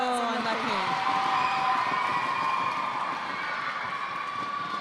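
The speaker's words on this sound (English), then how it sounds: "You see the Gibraltar crowd just sensing the change in the match to Malta and upping the volume a bit here in the Centenary Centre." A Gibraltar home crowd at an under-17 netball match roars steadily inside an indoor arena, a dense, sustained wash of cheering. Whistle-like tones slide at the start, and a commentator talks over it.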